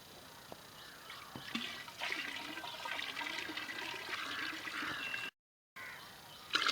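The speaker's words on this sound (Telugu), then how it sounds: "ఇప్పుడు ఈ 100 లీటర్ల నీటిలోనూ ఈ 6 లీటర్ల మజ్జిగ పులయబెట్టిన మజ్జిగ" Six litres of sour buttermilk poured into 100 litres of water while preparing a farm solution in Vizianagaram, Andhra Pradesh: a steady, close splashing pour that runs continuously, with one brief break near the end.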